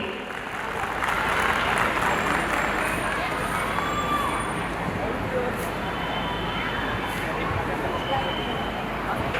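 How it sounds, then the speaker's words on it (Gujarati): Thunderous applause fills a school annual day hall in Surat as a small girl performer is welcomed to the stage, a dense continuous wall of clapping from a large crowd, steady and loud throughout with faint voices mixed in. "આપણે સૌ વેગળ સ્વરાને જોરદાર તાળીઓના ગડગડાટ સાથે વધાવી લઈએ"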